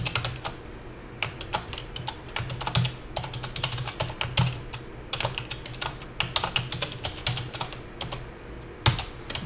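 Code being typed on a computer keyboard: close, fast bursts of key clicks with short pauses between runs and a brief louder keystroke near the end.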